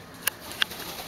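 Two short, bright chirps from a pet cockatiel, spaced a fraction of a second apart, close by and fairly clear over a quiet room background.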